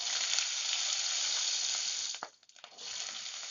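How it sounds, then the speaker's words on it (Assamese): Cumin and then small red potatoes hit hot oil in an Assamese home kitchen, giving a bright, steady sizzle that briefly dips and stutters before the frying hiss resumes. "লগে লগে আলুখিনি দি দিম"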